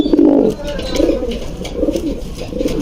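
A male pigeon from a kept pair of high-flying pigeons coos close by in a few throaty, rolling bursts, loudest at the start and then repeating more softly.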